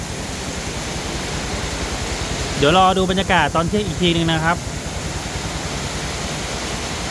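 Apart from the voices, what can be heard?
heavy rain falling in Uttaradit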